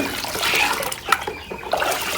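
Lemon juice and sugar being stirred into six litres of water for free-range chickens, giving a steady close sloshing and swirling of liquid with a few brief splashes, with no talking.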